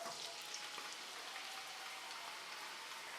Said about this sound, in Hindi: प्याज को लाइट गोल्डन होने तक फ्राई करेंगे